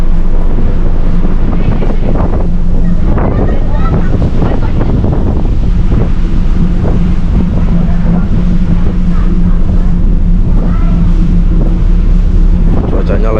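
Strong wind roars across the deck of the Pelni passenger ship Labobar while waves surge below, a continuous loud wash of noise buffeting the microphone throughout.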